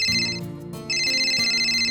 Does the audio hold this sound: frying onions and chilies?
no